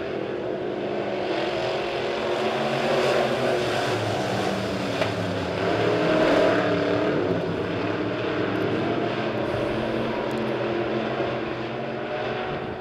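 Midwest modified race cars pull away in a six-car heat race at Springfield Raceway, their engines a steady, loud, broadband roar that swells slightly midway without letting up.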